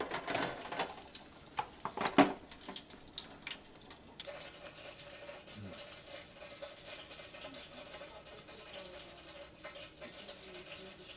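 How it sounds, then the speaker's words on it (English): Four homemade breaded ravioli drop into fresh oil in a deep fryer, giving a faint, steady bubbling sizzle after a few louder splashes and clinks at the start. "We're going to go ahead and put them into the fryer now"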